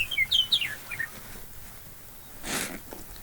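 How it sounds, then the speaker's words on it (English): A meadowlark sings a quick run of clear, fluttering whistled notes outdoors on open South Dakota public land, moderately near, followed by a brief rustle and quiet ambience. "That meadowlark is loud."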